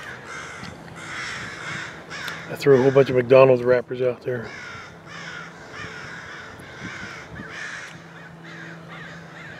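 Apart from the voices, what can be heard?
crows cawing overhead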